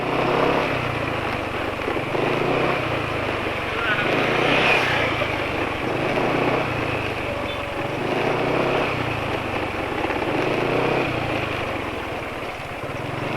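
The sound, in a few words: motorcycle engine revving, RPM dropping quickly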